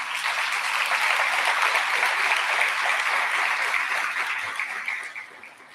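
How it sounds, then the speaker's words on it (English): Sustained applause from an audience at an alumni association awards ceremony for top ten scholars, a dense steady clapping that swells and then tapers off near the end, with no speech over it. "let's give a round of applause to all of you"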